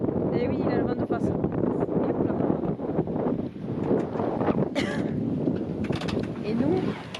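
Steady headwind buffeting the microphone on a boat trip to the Lérins Islands, a broad continuous rush throughout with people talking over it.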